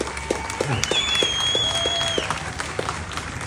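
Steady applause from a crowd at a No Kings rally filling the whole stretch, with a few faint tonal sounds drifting in the background.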